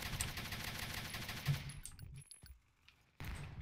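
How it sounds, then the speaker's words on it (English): Machine gun fire in a multiplayer video game, a dense rapid stream of shots that stops briefly and then resumes, faint and steady. "It's a machine gun."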